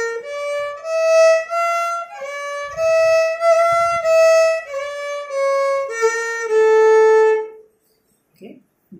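A violin plays a slow Carnatic melodic phrase of sustained, steady notes moving stepwise without gamakas or ornamental slides, ending in a long held tone.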